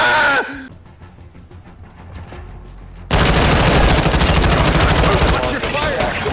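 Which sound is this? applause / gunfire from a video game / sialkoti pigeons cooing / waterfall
gunfire from a video game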